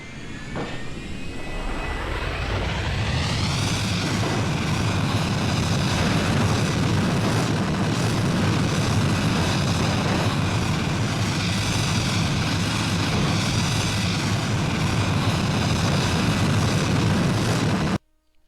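A jet airplane falls through a warp tunnel in BeamNG, its engine roar rising quickly at the start and then holding as a loud, steady whine and rush until it cuts off abruptly at the end.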